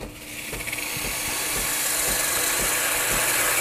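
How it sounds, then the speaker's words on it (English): A Breville Barista Express steam wand warming up before milk frothing gives a steady, loud hiss of steam. It builds over the first second and then holds evenly, with faint rhythmic mechanical ticks underneath. "takes a few seconds to warm up the milk wand or the steam wand"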